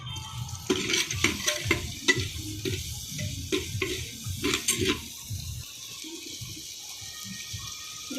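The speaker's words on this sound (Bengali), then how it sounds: "নেড়ে দাও এখন।" Dal being stirred in a cooking pot with a ladle, a run of close scraping and clinking strokes against the metal over a watery simmer, the stirring settling into a quieter bubbling hiss toward the end.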